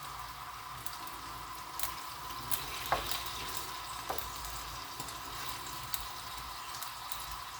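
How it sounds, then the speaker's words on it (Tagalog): Shrimp paste (bagoong) sautéing in a pan, a steady close sizzle and crackle with a few soft stirring clicks and scrapes, no voices. "Nagigisa ako ng bagoong kasi meron po akong paksiw na bangus"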